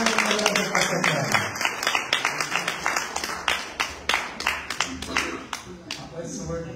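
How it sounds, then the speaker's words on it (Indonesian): An audience claps together in a quick, steady rhythm at a church service, loud and close, with voices carrying over the clapping. "Give me the big clap your hands together."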